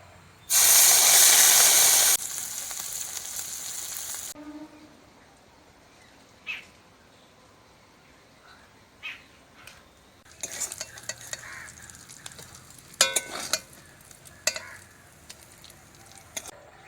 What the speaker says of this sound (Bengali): শুকনো মাছগুলো গরম জলে পরিষ্কার করে নিয়েছি ভেজে নেব